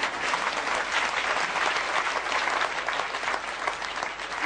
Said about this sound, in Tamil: நம்ம எல்லாரும் ஒரு ஜோரா கைத்தட்டி ஹானர் பண்ணணும்